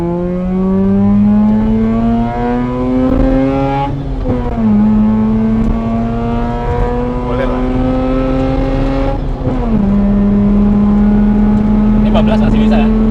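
Nissan S15 drift car engine revving hard and accelerating on an empty road, loud and close, with clear rising pitch sweeps broken by two gear shifts, and people talking over the engine.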